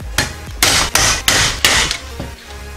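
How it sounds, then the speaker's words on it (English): Hammer blows drive a saw blade down onto a baseball bat, five loud, sharp metallic strikes in a steady rhythm, close up with no talking. "Now just go ahead and hammer it on there."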